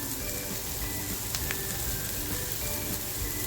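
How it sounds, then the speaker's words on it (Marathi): Chopped garlic hits hot oil with a dense, continuous sizzle and crackle, steady and close, with no talking. "आता जी लसूण घेतली आहे कापून ती लसूण टाकते"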